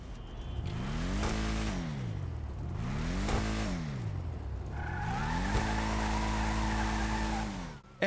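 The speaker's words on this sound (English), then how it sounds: "listen to the deep rumble of this engine." A classic muscle car engine in GTA 5 rumbles and revs in repeated rising and falling sweeps, three throttle pulls in a row with a steadier drone and tire squeal toward the end, no voices.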